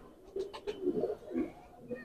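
A Ghera pigeon coos in a few soft, throaty low phrases, close by and fairly quiet, over faint background noise.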